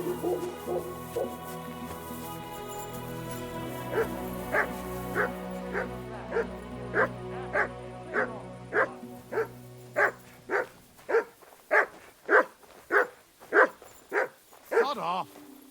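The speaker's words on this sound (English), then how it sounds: "Sit and bark." A dog in Kingdom Come Deliverance II barks on command, a long evenly spaced series of about twenty sharp yelping barks, close and growing louder toward the end, over a soft background hum.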